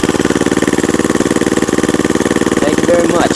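A 110cc motorcycle with a straight pipe exhaust, racing CDI and high performance ignition coil idles close by in a loud, steady, rapid putter. A faint brief whine sits over it near the end.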